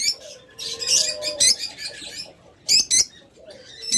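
A pair of creamino red-eye Fischer's lovebirds give shrill, close chirps in short clustered bursts, with brief rustling between calls.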